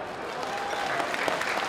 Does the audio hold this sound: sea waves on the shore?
no